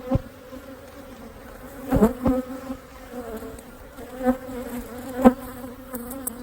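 Honey bees buzzing at an opened single brood chamber hive during a split, a close, continuous drone with a few louder passes as bees fly near, with no talking.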